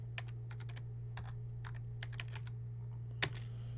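Quick, close keystrokes on a computer keyboard as networking commands are entered, coming in short bursts with brief pauses and one louder key strike near the end, over a constant low electrical hum.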